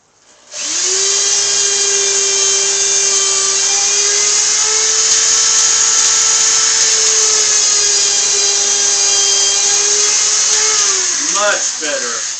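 A power drill spins up under test on a budget Deathmobile racing rig build, a loud steady whine holding at one pitch for about ten seconds before winding down, with a brief clatter at the end.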